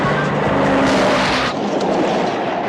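An old Dodge Charger tears at high speed across a rough surface, its engine roaring loud and close with tires scrabbling and rattling over the ground, the roar dipping slightly partway through before carrying on.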